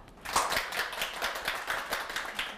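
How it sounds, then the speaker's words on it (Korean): A lecture-show audience claps to welcome a professor onto the stage, a steady patter of many hands lasting a couple of seconds at moderate volume, with no talking over it. "청산유수 유혜선 교수님의 강연을 박수로 청해 보겠습니다"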